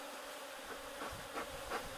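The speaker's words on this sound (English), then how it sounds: "I just had a couple of bees fly into the smoker while I'm trying to light it" Honeybees buzz around a beekeeper's smoker, a steady close drone with a few louder passes as individual bees fly near.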